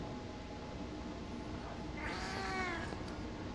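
A cat meows once in a drawn-out, rising-and-falling cry inside the horror video game DreadOut, faint over a steady hiss of game ambience with no talk.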